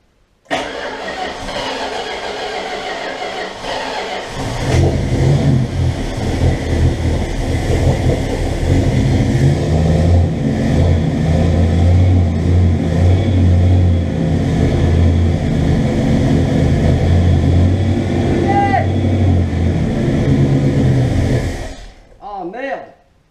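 A Dodge van engine cranks and catches, running rough and unsteady for about twenty seconds as it struggles and fails to settle into idle, then cuts out; voices talk over the rumble.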